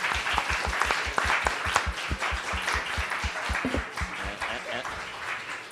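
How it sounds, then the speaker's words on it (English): Clapping from an audience closes an evening event on faith, reentry and prison reform, dense and sustained, with low thumps and talk mixed in before it thins out. "Big round of applause."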